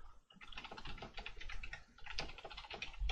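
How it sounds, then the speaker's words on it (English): A password is being typed on a computer keyboard, heard as a quick, steady run of soft key clicks, close and quiet, with no talking. "So you have to type in a password twice."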